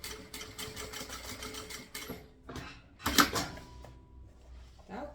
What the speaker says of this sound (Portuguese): Vou abrir e vou costurar aqui esse fundo